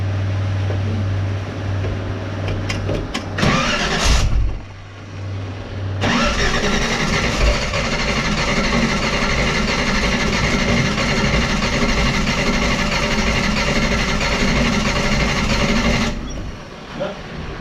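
A V8-swapped Toyota Hilux cranks and catches, then runs roughly at a steady, uneven idle with a loud, close engine drone that cuts out near the end.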